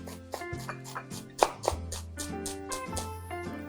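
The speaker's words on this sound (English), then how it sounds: "So we just do a little bit of chopping." A knife roughly chops an onion on a cutting board for chicken chasseur, making quick, even taps in a steady rhythm over background music.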